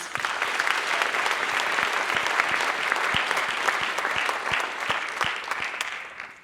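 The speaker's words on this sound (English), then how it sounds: "Let's give them a round of applause." A crowd at a teen awards event applauds continuously at an even level, the sharp claps of nearby hands standing out against the wash of the wider room before it thins slightly at the end.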